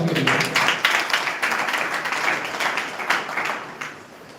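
A church congregation applauds loudly and steadily, many hands clapping in a dense, continuous roar that fades slightly toward the end.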